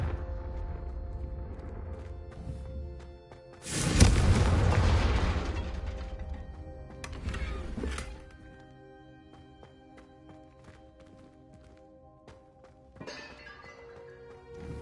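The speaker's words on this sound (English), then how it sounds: "the Confringo cast travels a bit farther than that of a spell like Incendiary" A Confringo fire spell from Hogwarts Legacy erupts in a loud burst with a deep thump and crackling tail, followed by a second smaller blast and a later faint hit, all over quiet tonal game music.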